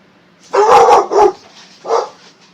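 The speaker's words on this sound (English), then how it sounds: "my dog barked." A pet dog barks close by, two quick barks followed by a single bark a moment later, with quiet surroundings between them.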